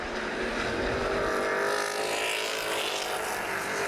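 Race cars roaring around the track at New Paris Speedway in a 100-lap summer feature, a dense, continuous engine drone from the pack with no commentary over it.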